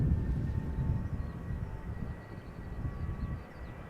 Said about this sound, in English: This is KLM flight 1621 737-800 to Milan.